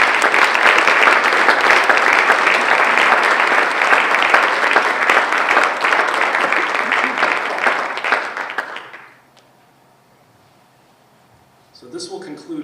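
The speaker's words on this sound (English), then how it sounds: "join me in a round of applause" Audience at an annual town meeting gives a sustained round of applause, loud and even for about eight seconds before fading to quiet, followed by someone starting to speak.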